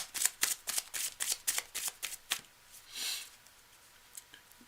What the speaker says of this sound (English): I'm just going to do an extra shuffle here